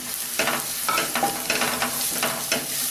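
Oil sizzles steadily as coriander, chili, turmeric and garam masala powders fry while a spoon scrapes and stirs through the pan in repeated strokes, close up, with no talking.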